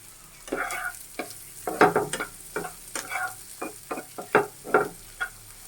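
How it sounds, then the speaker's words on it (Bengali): A spatula scrapes and stirs spice paste in a pan in short repeated strokes, with a soft sizzle of frying underneath; no talking. "লাড়াচাড়া করে একটু হালকা লাল করে নেব"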